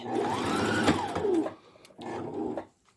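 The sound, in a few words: sewing machine stitching across fabric for an origami bag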